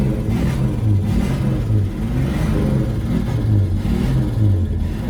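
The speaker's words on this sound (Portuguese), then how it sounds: "Ele tem os tuchos mecânicos, né? Você escuta o tic-tic-tic-tic-tic dele." Chevrolet Opala engine running with mechanical lifters, a close, steady idle rumble with a faint rhythmic ticking and slight pulsing in the engine note.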